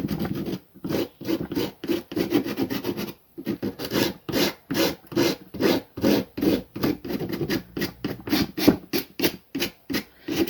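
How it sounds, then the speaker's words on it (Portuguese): An MDF box being hand sanded with sandpaper, rapid rhythmic back-and-forth rasping strokes, loud and close, with one brief pause early on. "eu vou utilizar uma lixa de mão aqui, ó. Pode ser qualquer lixa aí que você tiver. Então, é simples, você vem assim, vai fazendo o lixamento."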